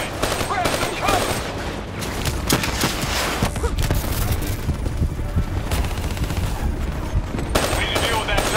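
Sustained turret and machine-gun fire in Call of Duty: Black Ops III, dense rapid bursts running throughout, loud and continuous with shouted voices mixed underneath.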